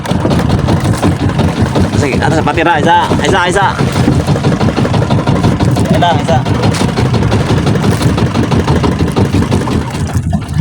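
A boat engine idles steadily at sea, a close, continuous low rumble running throughout while several people talk and call out to one another over it.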